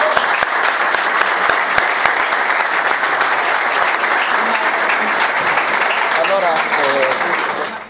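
Fans of the newly relaunched Messina football club applaud in a dense, sustained burst of clapping that stays loud and steady throughout, with some crowd voices mixed in, before it tapers at the very end.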